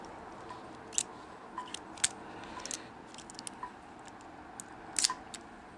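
Blades of a Leatherman OHT multitool fold shut with a scattering of sharp metallic clicks and snaps, several distinct locking clacks over quiet background.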